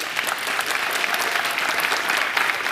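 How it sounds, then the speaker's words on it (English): A conference crowd at SeattleJS Conf 2023 gives a dense, steady round of applause that holds at an even level throughout, with no voices rising above it. "So a big round of applause to my family."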